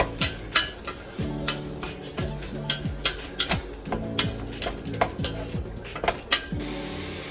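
A spoon scrapes and stirs soaked, briny jackfruit into a pot of sautéed vegetables, making repeated rhythmic strokes against the pot with soft clinks and a light sizzle underneath.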